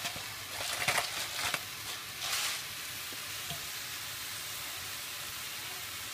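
Mushrooms and ridge gourd drop into a hot pan for a South Indian mushroom coconut milk curry, a loud burst of frying and stirring in the first seconds that settles into a steady, quieter sizzle.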